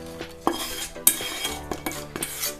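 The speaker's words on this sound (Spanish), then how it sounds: "Y continuamos batiendo" Rosquilla dough with anise-infused oil is beaten in a bowl: close, irregular clinks and scrapes of a utensil against the side, with soft wet stirring between the knocks.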